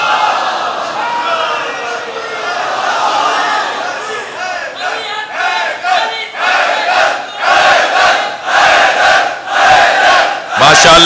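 A large religious gathering loudly chants salawat blessings in unison, a crowd roar that swells into rhythmic rising bursts of voices.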